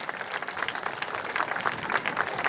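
Audience at a school sports event applauding students, a dense steady patter of many hands clapping together, fairly loud and sustained, with no talk over it.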